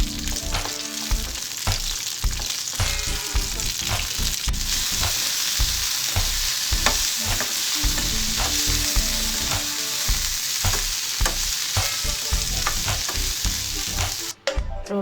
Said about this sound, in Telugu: ఆయిల్ వేడైన తర్వాత పచ్చిమిరపకాయలు, టమాటోలు వేసి ఫ్రై చేసుకోవాలి.